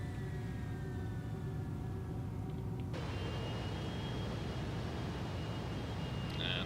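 Airbus A321 engines starting up in a flight simulator: a steady low roar with a thin whine that shifts partway through, loud and continuous, with no talk.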